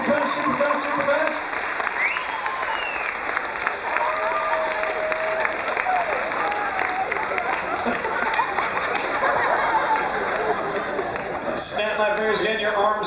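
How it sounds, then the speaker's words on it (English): A crowd at a hypnotist show on the Carnival Splendor cruise ship claps steadily with some cheering and chatter, and a voice speaks over the applause near the end. "That's once again, this round of applause is all for you."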